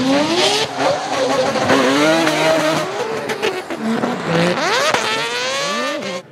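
A loud four-rotor Mazda FD RX-7 race car engine revs hard, its pitch climbing and dropping through gear changes, with a few sharp rising whines near the end.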